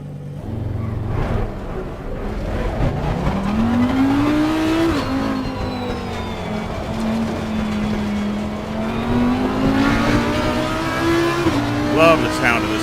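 A race car's engine in the Assetto Corsa Competizione sim climbs and holds steady revs, rising and falling through gear changes, loud and continuous with brief tire squeal, while someone talks over it.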